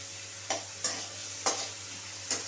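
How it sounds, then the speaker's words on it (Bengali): Spices and ingredients for an Afghani-style soybean dish sizzling in hot oil, with four distinct scraping strokes of a spatula stirring the pan over a steady frying hiss. "সমস্ত উপকরণ তেলের মধ্যে একটু নেড়ে চেড়ে নিতে হবে"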